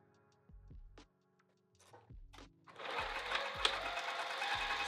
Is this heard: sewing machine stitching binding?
yes